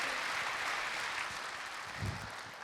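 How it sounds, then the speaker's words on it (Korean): A church congregation applauds steadily to welcome a guest at a Sunday service; the clapping is soft, distant and continuous, with no talk over it. "박수로 맞아 주실까요?"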